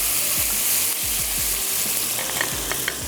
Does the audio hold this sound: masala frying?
yes